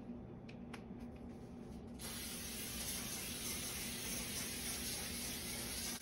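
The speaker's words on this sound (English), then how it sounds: "I'm gonna spray them." Butter-flavored cooking spray hisses in one continuous burst over roasted food, a steady close spray lasting several seconds after a few faint clicks.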